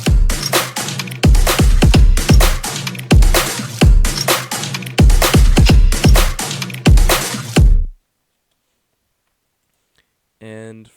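Progressive house drum loops layered together, a steady four-on-the-floor pattern of punchy kicks with bright hats and claps, loud and continuous for about eight seconds before cutting to silence, with a brief faint blip near the end.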